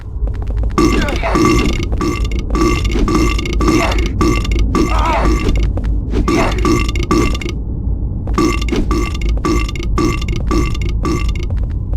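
Enemies in Silent Hill 4 burp as they slide down stairs: long, guttural belches repeat almost without pause, loud and up close, broken by two short silences.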